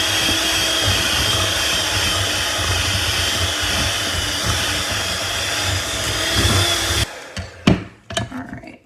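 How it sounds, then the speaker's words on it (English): A blender whirs loudly and steadily as it mixes almond flour and baking powder into keto bagel dough, then cuts off near the end, leaving a few clunks and rattles. "we're gonna blend it again until it's all mixed together"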